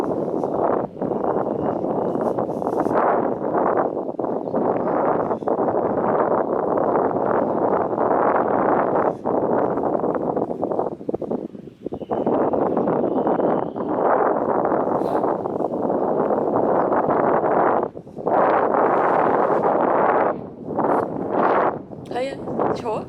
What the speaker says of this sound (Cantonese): 嗰日超大風，俾大家感受下啲風聲。